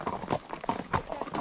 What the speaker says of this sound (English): This horse does walk fast